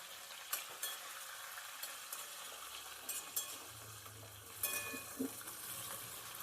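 Brinjal pieces fry in oil in a pan with a quiet, steady sizzle, broken by a few sharp knocks and scrapes of a spoon stirring, close and unhurried, with no speech.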